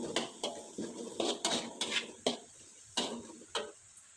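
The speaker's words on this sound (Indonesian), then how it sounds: "Kemudian lanjut dengan minyak goreng yang masih sama, tumis bawang merahnya sampai layu." Shallots sizzle in reused frying oil in a pan for papaya-flower and anchovy stir-fry, with repeated sharp clinks of a utensil against the pan over a soft hiss, close and moderately loud, no talk.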